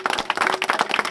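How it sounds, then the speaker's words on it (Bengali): A crowd applauds at a tournament prize ceremony, a short, close burst of dense, uneven clapping from many hands. "সবাইকে একটু জোরে হাততালি দেওয়ার জন্য অনুরোধ করছি।"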